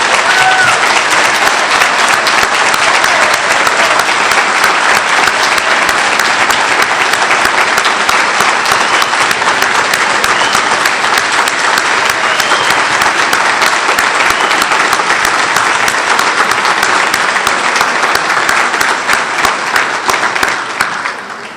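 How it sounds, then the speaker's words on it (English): A large audience at a civil rights and voting event applauds loudly and steadily, a dense wash of clapping that holds for about twenty seconds and tapers off at the very end. "Give the young people here a round of applause."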